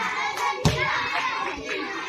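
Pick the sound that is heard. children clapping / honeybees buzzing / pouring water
children clapping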